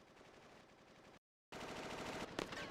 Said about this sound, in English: Oh, gunfire? Sounds pretty bad.